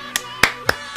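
A few sharp, separate hand claps sound close by, spaced unevenly, with faint background sound between them, during a DayZ video game session.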